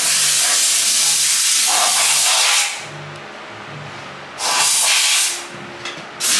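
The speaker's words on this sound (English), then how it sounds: "You can do the combo trick of the brake clean and the air both at the same time." Brake cleaner spray and compressed air blast out a motor grader's chain drive together in loud hissing bursts, with two strong rushing blasts separated by brief quieter gaps and a short final puff.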